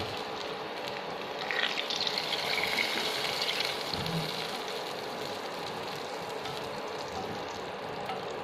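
White mutton-style gravy (veg version) poured into a pot with a soft gushing splash, a light sizzle and clink partway through, quiet and close with no voices.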